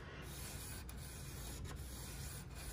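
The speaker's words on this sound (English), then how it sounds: "Zach will show us here how we hone the blade with the sharpening stones." A medium-grit sharpening stone rubs back and forth along an ice skate blade held on a flat surface, making a soft, continuous scraping hiss with faint rhythmic strokes, quiet and close.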